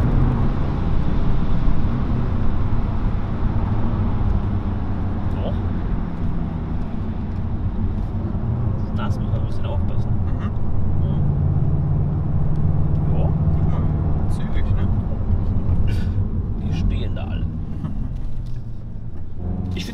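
A steady VW Golf 8 GTI engine drone with low exhaust rumble runs throughout, with faint clicks and cabin noises over the top.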